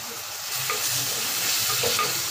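Chopped onion and two tomatoes sautéing in a pan for a village-style fish gravy, a steady close sizzle broken by repeated stirring scrapes, with no voices.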